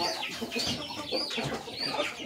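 Chickens clucking in a busy, continuous chorus of short, overlapping calls, fairly close and steady for the whole moment, with no voices over them.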